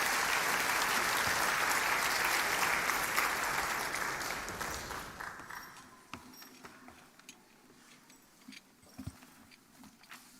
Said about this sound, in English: Let's give all of our recipients today a round of applause.